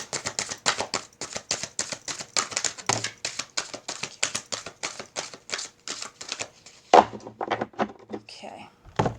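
Tarot cards are shuffled in rapid, crisp riffling bursts, many quick flicks in a row close to the listener, with a brief pause and a voice speaking near the end.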